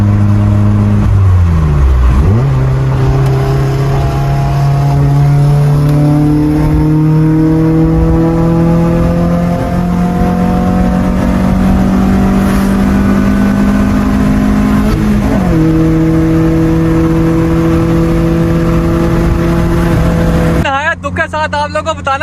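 A modified Project FX car, speed-locked at 180 by an F22 fault, accelerates hard with a loud, close engine note that climbs steadily through the gears, dropping briefly at each shift before revving up again.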